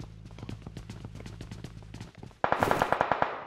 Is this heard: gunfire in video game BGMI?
yes